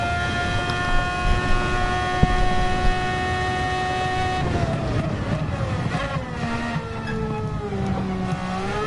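Very loud car engine in Gran Turismo 7 holding a steady high drone, then shifting into wavering, falling pitch sweeps as it changes speed, with no voices.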